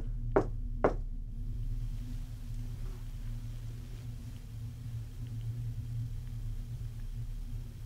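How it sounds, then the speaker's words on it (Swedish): Two sharp knocks close together ring out early in a quiet room of an old rectory during a ghost hunt, then a low steady hum continues alone. "Kan ni knacka på det här sättet?"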